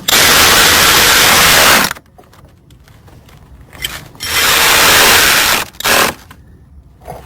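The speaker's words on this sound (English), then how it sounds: "tighten up the two 10 millimeter bolts" A hand ratchet tightens the two 10 mm bolts holding the radiator fan on a Chrysler 200. It gives two loud bursts of rapid clicking, each close and lasting a couple of seconds, with quieter handling noises between them.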